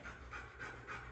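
A dog pants in quick, regular breaths, four rhythmic pulses close to the listener at low volume, with no talking over them.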